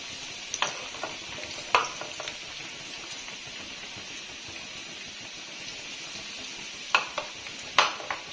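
Potato pakoras in batter fry gently over a medium-low flame, with a soft, steady hiss of oil and a few sharp clinks of a utensil against the pan.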